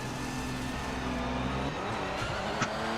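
Race car engine in the Project Motor Racing sim roaring steadily as the car brakes late, with tones shifting down as speed drops and a brief sharp blip near the end, heard close with no talk.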